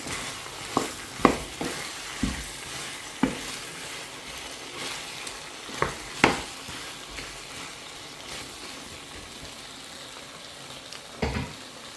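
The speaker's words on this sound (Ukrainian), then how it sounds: "Файно перемішую із буряком." A constant soft simmering sizzle with sharp scraping knocks of a utensil stirring red beets into a pot of shpundra, irregular and close, no talking.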